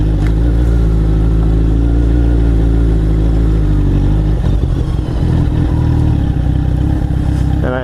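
A Kawasaki Z1000 motorcycle's engine roars loud and close while riding on dirt, holding a steady, dense drone that dips and revs unevenly with some mechanical clatter throughout.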